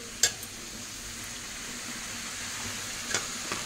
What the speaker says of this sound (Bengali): কলমি শাক ভাজা হচ্ছে